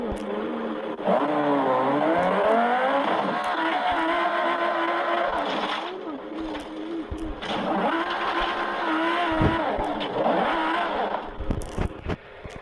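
A car engine revs hard in the BeamNG driving game, rising and falling whines over two long acceleration runs with a brief lull between, loud and close, ending in scattered scraping knocks.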